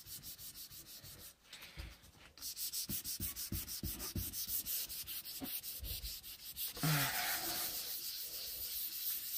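A wooden Rega turntable plinth is rubbed by hand to a high-gloss finish, giving steady repeated sanding-like strokes in a close, even rhythm that runs for the whole stretch with no talking.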